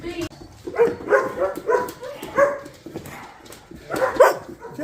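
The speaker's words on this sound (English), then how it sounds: "Man, these dogs are just driving you nuts sometimes." Several dogs bark and yip in bursts inside an old house, close and fairly loud, with short whimpers between the barks and pauses in the rhythm.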